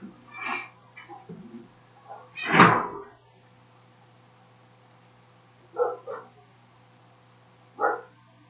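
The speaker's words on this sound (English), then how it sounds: "The dog is barking." A pet dog barking at home, apparently from outdoors. There are a few separate barks spread out with pauses between them, and one louder, closer bark near the start.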